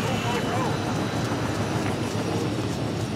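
Helicopter flying overhead in the Battlefield 2 AIX mod on the Damocles map, a loud, continuous broadband rotor-and-engine roar that stays steady throughout.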